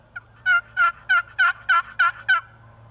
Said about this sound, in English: You can do the same thing with a box call.